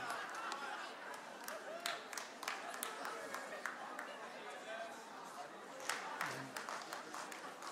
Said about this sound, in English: I hear some claps over here.